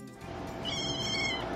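A cat gives a single clear meow in the middle, heard up close over a quiet room background.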